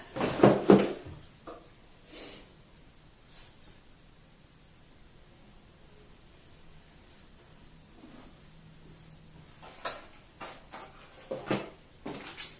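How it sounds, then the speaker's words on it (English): Items being loaded back into a bathroom drawer, with a few soft clunks and rustles near the start, a quiet stretch, then a cluster of close knocks and clatters toward the end. "load your drawer back up"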